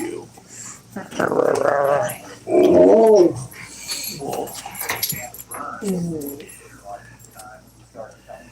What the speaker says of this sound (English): You big ass dog, come here.